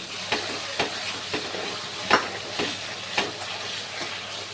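Chili and mustard paste frying with spices for a jackfruit and paneer curry, a steady sizzle broken by sharp, regular scrapes and clinks of a spoon stirring in the pan, close and alone.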